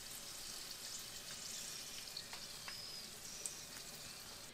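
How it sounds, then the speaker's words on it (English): Raisins frying in lard in a pan give a steady, close sizzle with faint crackles and a few soft spoon clicks, no voices. "you're going to continue to fry them up until they puff up"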